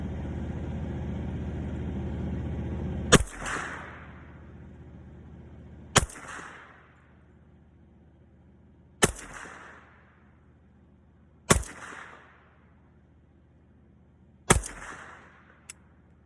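A Winchester Model 1907 rifle fires five .351 rounds, each a sharp, loud crack spaced roughly three seconds apart with a short echo, after a low engine-like hum fades out.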